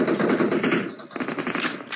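Rapid automatic gunfire from the PUBG battle game, dense sustained bursts of machine-gun shots filling the clip with a brief lull near the middle before firing resumes, loud and close.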